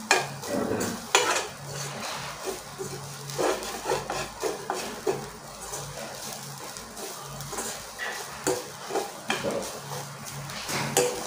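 Coconut roasting in a pan for Tamil paruppu poli is stirred with a utensil, giving steady scraping and clinking strokes over a faint sizzle, close and moderately loud throughout.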